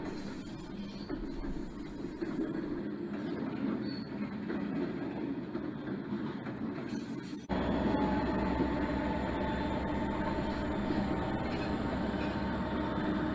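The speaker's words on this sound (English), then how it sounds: "GP30, GP38-2, and a U30C with a loaded coal train" GP30, GP38-2 and U30C model railway locomotives haul a loaded coal train around a layout, a steady low rumble and hum of motors and wheels that shifts abruptly in tone midway.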